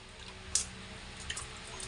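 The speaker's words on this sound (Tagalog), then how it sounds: "Then, pipigain natin yung ating carrots" Grated carrots are squeezed by hand for juice, giving soft, close squishes and a few small drips over a faint room hum, with no talking.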